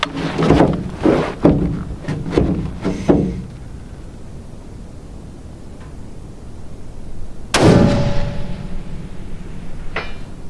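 Rifle shots from Hornady 87 grain V-MAX rounds fired at longer range: a quick burst of several loud, sharp cracks in the first three seconds, then a single strong shot near the middle and a fainter report near the end.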